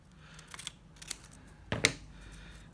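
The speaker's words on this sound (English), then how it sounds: "I'm just going to trim this excess off" Scissors snip through excess paper while trimming a strip for a handmade inspiration journal: three crisp, close cuts, the last one loudest, in a quiet room.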